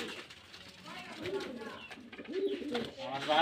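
Rajshahi Giribaz pigeons coo in a soft, low, repeated rolling call, fairly close, with a steady background hum and a few faint chirps.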